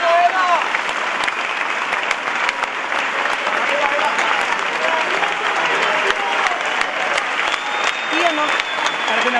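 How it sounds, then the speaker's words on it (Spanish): Dense, steady applause fills a large crowd at a farewell end-of-tour concert at Circo Price, continuous and loud throughout with cheering voices mixed in. "aplauso."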